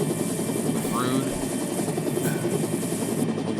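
A helicopter in a Final Fantasy VII Rebirth cutscene gives off a steady rotor and engine drone, moderately loud and continuous beneath someone talking over it.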